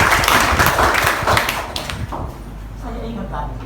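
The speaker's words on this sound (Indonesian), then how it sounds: "Mari kita berikan tepuk tangan dulu yang terbaik buat Tuhan." A church congregation claps hands during a Sunday worship service, a dense burst of clapping in the first two seconds that thins and fades into a quieter room.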